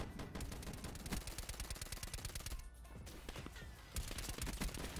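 Rapid gunfire from a first-person shooter match, dense bursts of shots cracking one after another at close range and pausing briefly midway before resuming, with bullets aimed at the player and a faint voice underneath.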